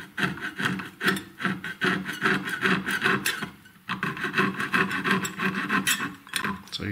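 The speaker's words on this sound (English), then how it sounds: "it's just scraping the metal off rather than cutting it off" A saw blade pulled sideways like a file scrapes metal while shaping a tension-set drop pendant, giving a steady run of close, rhythmic rasping strokes with a short pause midway.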